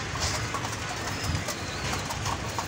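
Pigeons in a breeding setup cooing softly, with low murmuring calls repeating against a steady background hiss, close but gentle, and no voices.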